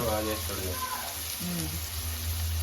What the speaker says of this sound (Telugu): లవంగాలు యాలకులు ఫ్రై అయిపోయాయి